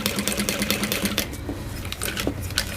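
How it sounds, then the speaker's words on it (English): A sewing machine stitches a bag seam at a short stitch length, its needle running in a steady rapid rhythm for most of the clip before slowing into a few separate clunks near the end. "And I'm going to sew on that line."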